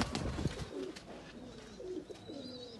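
High-flyer and breeder pigeons in a loft in Faisalabad give soft, rolling coos, repeated several times at close range over faint rustling and a few brief chirps.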